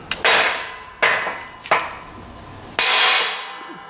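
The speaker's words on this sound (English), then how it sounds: "we're just gonna hammer on this thing until it budges right now with a 3-pound hammer" Four loud, sharp hammer blows from a 3-pound hammer strike a stuck ATV part, spaced unevenly with ringing decay between them, close and with no talking.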